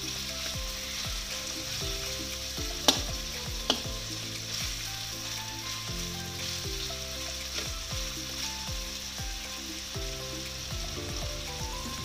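Garlic sautéing in a pan for duck adobo gives a steady, even sizzle throughout with no talk, broken by a couple of sharp clinks early on.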